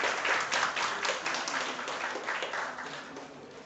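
Conference audience clapping at a physics symposium session, a lively, fairly close round of many hands that swells early and slowly tapers off.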